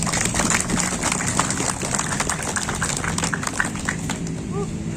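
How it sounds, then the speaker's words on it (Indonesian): Audience applause at a community forum gathering in Jatinangor, a dense steady patter of many hands clapping throughout, fairly loud and continuous with crowd noise mixed in. "Tepuk tangan untuk semua orang yang percaya."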